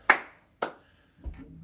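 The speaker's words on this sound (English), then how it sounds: "And then we double clap." Two crisp, close hand claps land about half a second apart during an exercise class, followed by a softer thump, with no talking over them.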